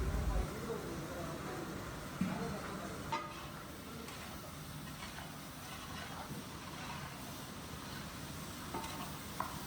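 Onions and curry leaves sautéing in a pan for a Kerala sadya-style stew, a steady soft sizzle with occasional stirring scrapes and knocks running throughout.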